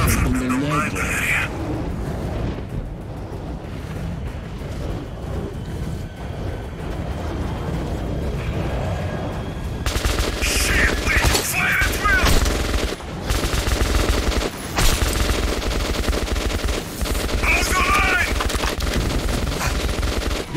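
Gunfire in Metro 2033 Redux, with rapid bursts and single shots that grow louder and denser in the second half. A player talks over the game sounds.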